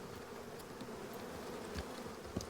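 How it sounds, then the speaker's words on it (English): Honey bees swarm around an open hive during a honey harvest on a Greek island, a dense continuous buzz filling the air with occasional louder passes of single bees close by, no one speaking. "there's a lot of bees here."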